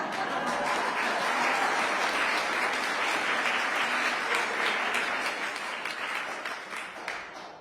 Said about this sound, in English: sorry, you can clap.